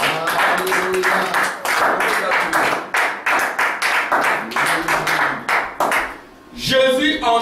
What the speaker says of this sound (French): Acclamation pour les prophètes.